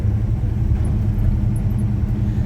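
A Chevy C10 pickup truck cruises along with a steady, loud low engine rumble and road noise filling the cab, with no talking.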